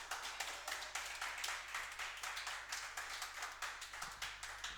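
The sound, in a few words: students clapping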